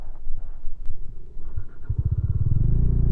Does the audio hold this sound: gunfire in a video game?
no